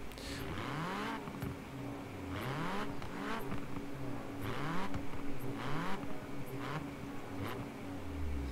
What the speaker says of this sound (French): au moins on a un son 4 cylindres